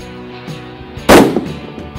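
A Blaser R8 Ultimate rifle fires once on a second attempt at a small target, a loud, close crack with a short reverberating decay against a quiet background.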